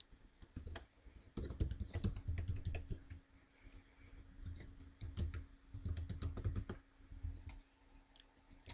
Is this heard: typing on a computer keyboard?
yes